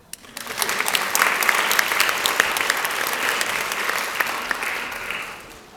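Parents in a school audience clap for a teacher coming up to speak, a steady round of applause that starts sharply, holds at an even level and tapers slightly toward the end.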